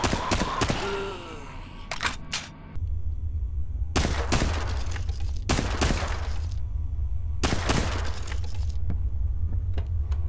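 Video game gunfire from The Last Survivor as zombies are shot: loud broadband bursts, an early volley followed by several spaced blasts, over a steady low rumbling game soundtrack.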